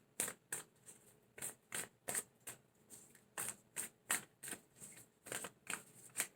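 Tarot cards are shuffled in quick, crisp bursts, a dozen or so riffling swishes in an irregular rhythm, close and fairly quiet with no talking.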